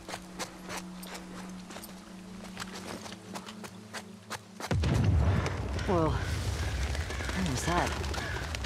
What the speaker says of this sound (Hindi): धमाके की आवाज आई है, लगता है टॉमी है।